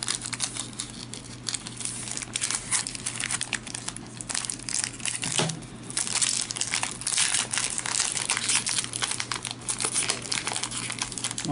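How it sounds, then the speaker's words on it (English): A Magic: The Gathering M15 booster pack wrapper is torn open with one hand, giving continuous close crinkling and crackling of foil plastic over a steady low hum. "Let's go rip this pack and see what's in it."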